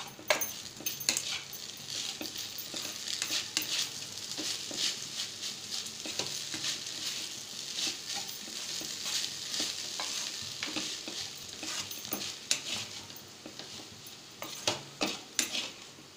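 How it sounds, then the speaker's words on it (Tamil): Dal stirred in a pan over a high flame while making aval upma, a steady frying sizzle broken by repeated scraping and clinking of a spoon against the pan, close and continuous with no talking. "பருப்பு கொஞ்சம் ஹை ஃப்ளேமில் வச்சுட்டு நம்ம இதை கிளறி விட்டுடலாம்."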